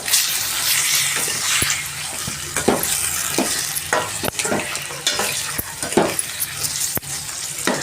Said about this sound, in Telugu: ఇది బాగా మనకి వాటర్ పోయేంత వరకు బాగా ఫ్రై చేసుకోవాలి.